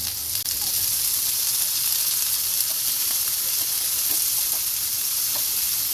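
Potato and cauliflower pieces roast in oil in a pan, giving a loud, continuous close-up sizzle and hiss with faint stirring clicks and no voices.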